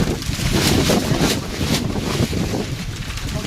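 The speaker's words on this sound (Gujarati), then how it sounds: "પવન બહુ જ છે." Strong gusty wind from an unseasonal storm over a sunflower field roars and buffets the microphone in loud, rumbling surges, close and continuous, with no voices.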